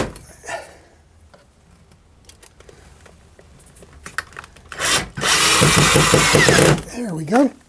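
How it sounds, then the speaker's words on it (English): A power drill runs screws down into cleaned-out holes on a large model railroad helix, a loud steady whir with a brief burst near the end, after quieter handling and rustling. "so now we can run the screws down in there."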